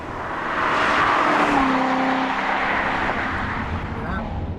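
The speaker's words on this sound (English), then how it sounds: "This is the ultimate pushrod engine" A 2014 Chevrolet Corvette Stingray Z51 with its pushrod V8 gives a sustained roar and rising whir as it accelerates past, loud throughout and slowly fading, with a voice talking over it.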